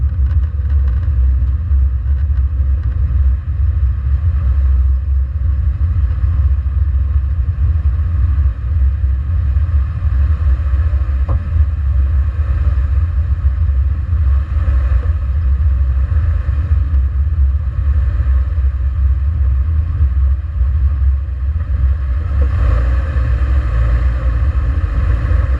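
Subaru Crosstrek cruising through residential neighborhoods, a steady low engine and road rumble heard from inside the car, constant and moderately loud throughout with no talk.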